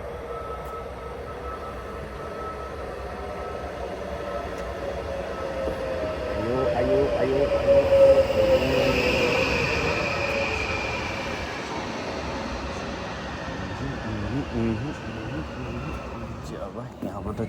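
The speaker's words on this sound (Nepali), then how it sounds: "जाग्रिब जाने ट्रेन" A train bound for Zagreb in Croatia rumbling steadily nearby, growing louder midway as it rolls past with a faint metallic whine, while voices talk over it.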